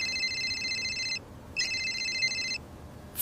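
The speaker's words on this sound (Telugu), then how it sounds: "ఫోన్ ఎత్తమ్మా." A telephone rings in two electronic bursts with a short gap between them, each one loud and near, with no voices.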